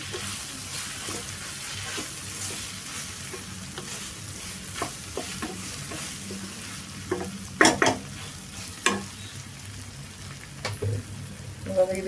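Fried rice with spices sizzles quietly in a pan while a spoon scrapes and stirs through it, with scattered clearer scraping knocks toward the end and no talking.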